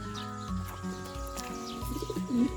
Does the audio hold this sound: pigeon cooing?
yes